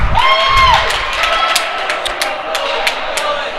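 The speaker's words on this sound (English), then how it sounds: "And the whiny Arapahoe contingent applauds a call against Littleton." Crowd at a youth 12U hockey game applauding and cheering a penalty call, a steady mass of clapping and shouts under a commentator's voice throughout.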